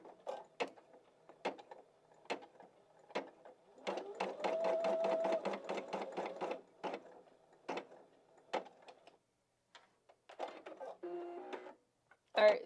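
A single-needle embroidery machine stitches a test stitch on a sweatshirt collar. Quiet, rapid mechanical stitching comes in short intermittent bursts, with one longer steady run in the middle, close by.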